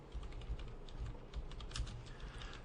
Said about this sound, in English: So we'll type in Billable Staff